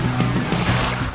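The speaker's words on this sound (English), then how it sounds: "We're going to go through some great rapids." A raft rushes through Class 4 whitewater rapids on the Tuolumne River, a loud, dense, continuous roar of churning and sloshing water, close and unbroken.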